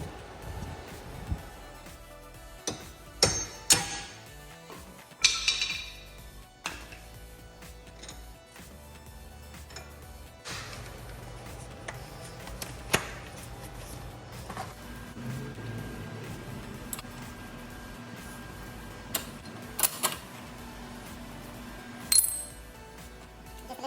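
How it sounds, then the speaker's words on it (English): A hammer knocks wheel studs out of a car hub on a 240SX, with sharp metallic strikes coming in irregular bursts amid quieter handling noise, close and fairly loud. "hammer them out"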